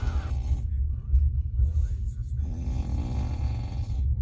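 Loud, deep snoring from a neighbour in a Trans-Siberian train compartment, heavy rumbling breaths repeating close by over the steady rolling noise of the carriage.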